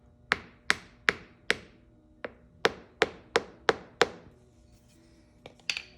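A Mandalorian helmet is knocked down into casting sand for an aluminum casting mold, giving about ten sharp, close knocks at an uneven pace, then a brief pause and a couple of quicker taps at the end.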